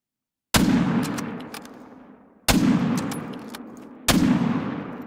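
Three loud, close rifle shots ring out in theHunter Call of the Wild, aimed at a red deer, each a sharp crack followed by a long rolling echo, spaced about two seconds apart with no talking.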